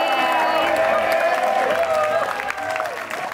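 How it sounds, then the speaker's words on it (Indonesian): Studio audience applause on an Indonesian dating show, sustained clapping and crowd noise with some cheering, layered under music tones and a voice that carries through. "boleh kita berikan tepuk tangan buat Holly"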